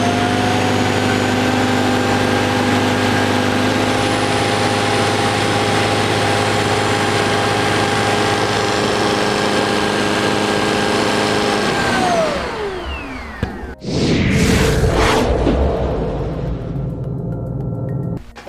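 A Shark IQ robot vacuum with a self-emptying base runs with a loud, steady whine and hum that winds down near the end, followed by a brief rustle and then a quieter motor drone.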